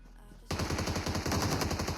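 Automatic gunfire in the mobile battle royale game PUBG Mobile, played on an 8th-generation iPad, bursts in loud and close after a quiet half second and continues as a rapid, steady stream of shots to the end.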